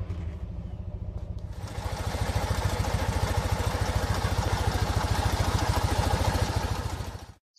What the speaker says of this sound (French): Son nouveau moteur tourne très bien.